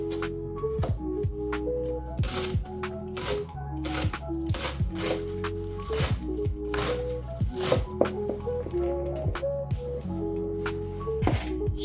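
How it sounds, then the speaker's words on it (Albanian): Rapid, steady knife chops through a kilogram of fresh spring onions on a board for an Albanian byrek, close and crisp, in irregular bursts of quick strokes with no talking. "Kam marrë 1 kg shep të njoma dhe do t'i presim."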